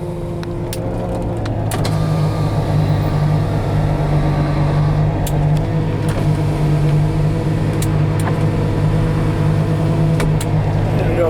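A 1972 Mercedes 280 SEL with a fuel-injected V8 conversion runs at a steady, loud idle after starting, with a constant low engine hum and scattered clicks and thumps from inside the car.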